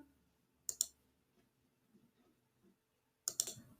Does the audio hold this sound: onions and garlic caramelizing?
no